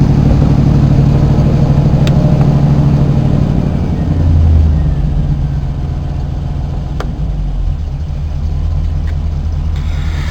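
A car engine, just refilled with fresh oil after a drain, starts and settles into a steady, loud, close idle rumble that runs the whole time without talk.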